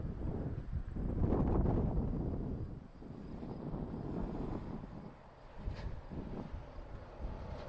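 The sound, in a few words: Porter Airlines Embraer plane landing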